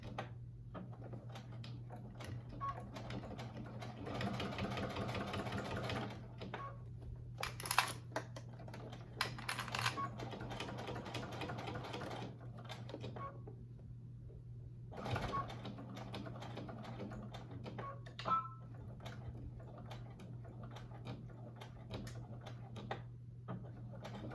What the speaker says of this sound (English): I'm going to back stitch a few times there